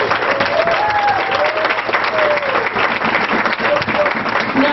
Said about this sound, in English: So can we please give her a round of applause?